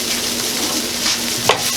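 A wooden spoon stirs and scrapes browned fond in a pan of braising beef, steady loud sizzling throughout with soft scraping strokes and one sharper clack near the end.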